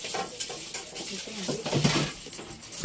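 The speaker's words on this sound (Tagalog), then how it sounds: "Haluin natin guys hanggang sa maluto. Ang ating Gelatin." Gelatin dessert stirred while cooking, a steady run of spoon scrapes and clinks against a pot over a soft sizzle, with voices talking nearby.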